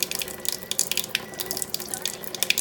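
Water streams steadily from the spout of a Kangen K8 water ioniser, a continuous close splashing and trickling with no one speaking.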